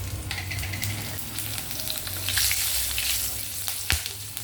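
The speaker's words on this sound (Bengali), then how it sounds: "কালো জিরে আর কাঁচা লঙ্কা ফোড়ন দিয়ে দিলাম।" Nigella seeds and green chillies dropped into hot oil as a tempering, giving a loud, continuous close sizzle and crackle with a brief sharp tap near the end, no voices.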